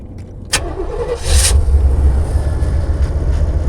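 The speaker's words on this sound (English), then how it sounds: "go ahead and just turn the engine and everything all the way on" A 1992 GMC Vandura Tiara van's engine starts up close by: a sharp click and brief crank, then the motor catches into a loud, steady low rumbling idle that continues to the end.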